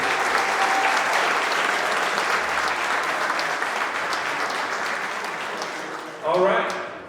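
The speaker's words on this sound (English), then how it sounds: "Give a round of applause." Crowd applause at a high school football alumni hall of fame ceremony, a broad sustained clapping that slowly fades over several seconds before a brief final swell of noise.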